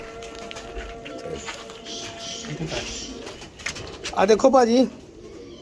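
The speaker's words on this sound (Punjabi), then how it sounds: "ਇਹ ਦੇਖੋ ਜੀ ਕਬੂਤਰ" A grey chakar pigeon coos close by in a short rolling burst near the end, with people talking throughout and background clatter.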